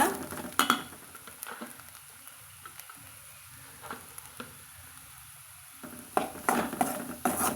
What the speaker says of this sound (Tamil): தேங்காய் துருவல் சேர்த்திட்டு நல்லா கலந்து விட்டுக்கலாங்க